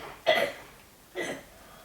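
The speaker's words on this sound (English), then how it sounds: "You can tell we're all coughing it up." Two short coughs, about a second apart, the first sharper and louder, in an otherwise quiet space.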